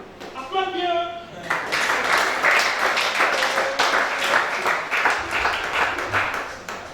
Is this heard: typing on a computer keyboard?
no